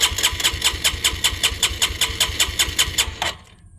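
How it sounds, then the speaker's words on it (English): A CT125 motorcycle engine cranks on its starter motor at wide open throttle with a compression gauge fitted, giving a fast, even run of about twenty pulses that ends abruptly after three seconds, close and loud with no talking. "Wide open throttle, hit the starter motor."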